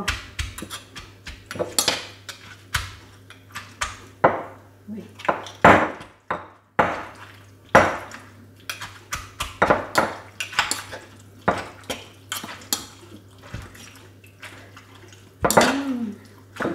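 A papaya salad gets tossed in a bowl with utensils, giving irregular clinks and scrapes of cutlery against the dish, along with a few wet sounds and an occasional voice in the background.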